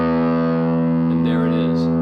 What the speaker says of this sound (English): we're going to be playing on the 6th string, which is the lowest string, E